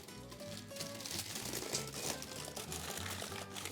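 Two cups of water pour into an Instant Pot over a trivet, a steady splashing and trickling with light crinkling, fairly close and without talk.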